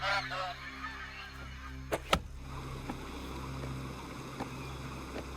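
Agitated birds honk and call near a spot where trees are being cut, a goose-like cry at the start followed by a couple of sharp bursts and scattered fainter calls over a steady low hum.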